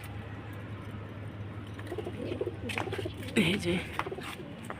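Pigeons coo in soft, throaty bursts close by, rising toward the end, while someone speaks briefly over a low background hum.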